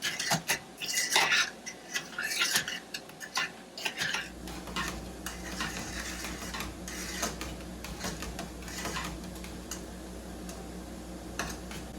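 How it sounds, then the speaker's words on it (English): Elderberry jam with sugar stirred in a pan on the stove: repeated ticking and scraping of a utensil against the pan, busier and louder at first, then a steadier softer bubbling scrape with no talking. "You're going to want to stir this so that your sugar doesn't burn on the bottom of the pan."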